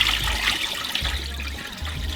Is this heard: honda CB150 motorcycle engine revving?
no